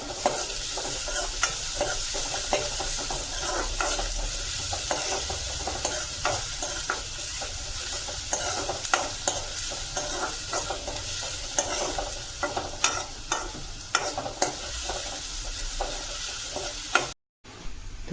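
Finely chopped onion fries in a pan with a constant hiss and sizzle, punctuated by frequent light scraping stirs, close and steady throughout.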